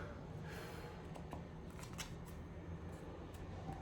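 Tarot cards are shuffled close by, a few quick riffling bursts and soft slides over a low, steady background hum.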